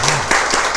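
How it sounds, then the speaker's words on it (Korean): Church congregation applauding during a Sunday worship service, a short, dense burst of clapping that stays steady and fairly loud throughout. "우리 박수로 축복할까요?"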